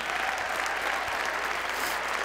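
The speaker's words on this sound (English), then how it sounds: "How about a round of applause for all of them?" Steady applause from a circus show audience, a dense wash of clapping that holds at an even level throughout with no voices standing out.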